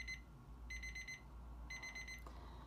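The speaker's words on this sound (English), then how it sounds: "It's very quiet, but then the beeping intensifies." A non-ticking alarm clock beeps in two short bursts of rapid electronic pips, quiet and close, over a faint low hum.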